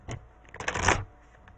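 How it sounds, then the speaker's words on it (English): Oracle cards are shuffled in one quick papery riffle lasting under half a second, close and fairly soft, in an otherwise quiet room. "Another shuffle."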